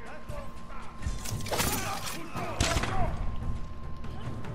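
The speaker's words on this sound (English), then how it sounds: "Explosions for you." Explosions in the video game Ghost of Tsushima erupt as shattering crashes and booms, two big bursts standing out over continuous battle noise while a player talks.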